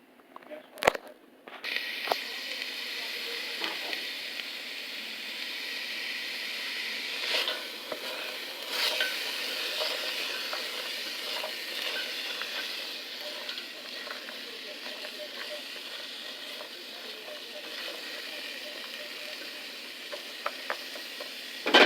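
Vegetables and meat frying in a pan for lasagna, a steady close sizzle and hiss that runs throughout, with occasional utensil clicks and scrapes.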